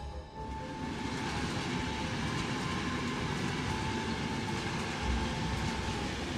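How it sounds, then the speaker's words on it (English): A train rushes along in a Final Fantasy XIV Endwalker game trailer, a steady, loud, dense rumble and roar with faint rhythmic clatter running unbroken throughout, with no voices over it. "This is a train?"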